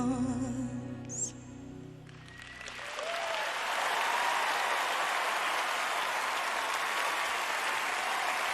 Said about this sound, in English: Give yourself some applause.